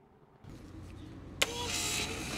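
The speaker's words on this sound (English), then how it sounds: "The oil pump will run." An electric transmission oil pump on a BMW E90/E92/E93 M3 manual gearbox starts up and runs with a steady whirring hum, close and continuous after a click, with no talking.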